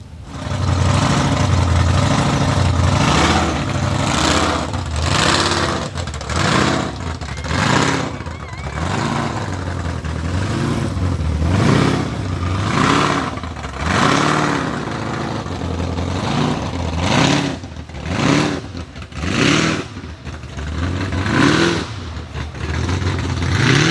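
A drag van with a giant supercharger and two-stage nitrous revs at the Fuel Cleveland 2023 car show, a loud, close engine surging in repeated throttle blips over a constant rough rumble for the whole span.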